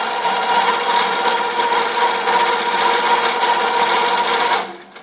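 An EQ20 sewing machine runs with its thread hooked on the check spring, giving a loud, steady mechanical whir that holds evenly for several seconds before cutting off abruptly near the end.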